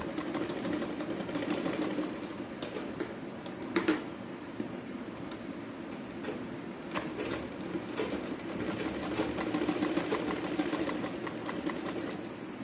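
Sewing machine running steadily with rapid ticking stitches as it sews the shoulder seam of a child's umbrella frock top, a continuous mechanical whir with occasional brief clicks and no speech.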